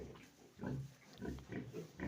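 A sow lying down and grunting softly while nursing her piglets: a steady series of low, rhythmic grunts at an even pace, close and gentle, with faint barn background.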